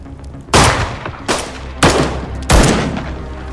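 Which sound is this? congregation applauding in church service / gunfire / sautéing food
gunfire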